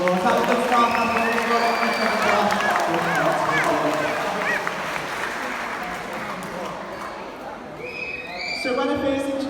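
Spectators at a sea lion show applaud in a moderate wave with some crowd noise. Close voices talk over the clapping throughout.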